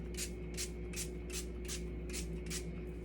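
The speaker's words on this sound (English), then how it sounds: "let's set our face with the setting spray." Makeup setting spray misted onto a face: seven evenly spaced short pump bursts of hissing spray, close, over a steady low hum.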